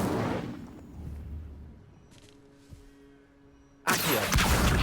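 A fire spell cast in Hogwarts Legacy on Xbox Series X bursts out as a loud, sudden roaring blast near the end, after a quieter stretch of low game ambience.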